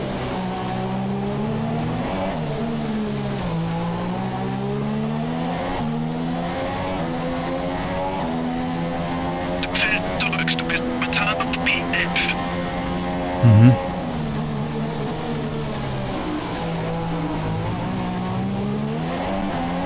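F1 2017 race car lapping Monaco in Monte Carlo, engine screaming loud and close with rising and falling revs through gear changes, a brief burst of tyre squeal near the middle and a short thump later on.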